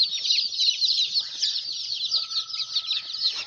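Many wet, freshly vaccinated chicks peep in a dense, high-pitched chorus of overlapping chirps, close by and continuous.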